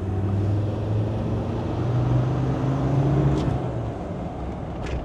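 A Land Rover Defender Td5 diesel fitted with a GTB450 variable-vane turbo, heard as a close, steady engine drone with low tonal hum that swells briefly as revs rise at the bottom of the range, then settles.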